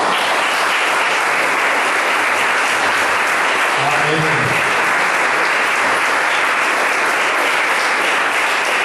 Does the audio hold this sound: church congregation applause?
yes